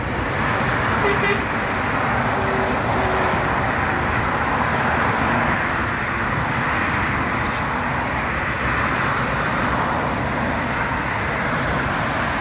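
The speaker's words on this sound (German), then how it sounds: "weiter geht's, ein schöner MAN" A MAN truck rolls past on the A5 motorway near Frankfurt in a broad, steady roar of heavy traffic, with a short horn toot near the start and no talking.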